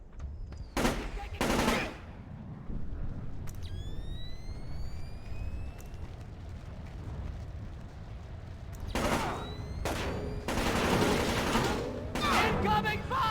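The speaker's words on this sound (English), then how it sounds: "Incoming fire!" Bursts of automatic gunfire in Splinter Cell: Chaos Theory, loud clustered volleys near the start and again toward the end, over a steady low rumble of game ambience with scattered mechanical clinks.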